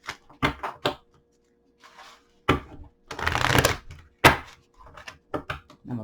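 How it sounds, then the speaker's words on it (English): Brand-new, sticky tarot cards are shuffled in a series of short, sharp riffling bursts separated by pauses, heard close up and alone. "Let me go ahead and shuffle these."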